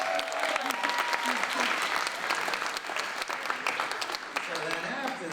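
Audience clapping at a school theater closing night, honoring the class of 2019, steady and crisp with cheers and voices mixed into the applause.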